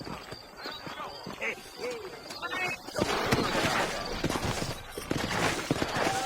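Horse hooves clip-clopping at a steady trot in Red Dead Redemption, with a voice speaking over them and rising ambient noise.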